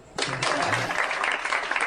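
Applause breaks out suddenly and holds steady as a dense wash of clapping from a crowd, fairly close and unbroken, with no talk over it.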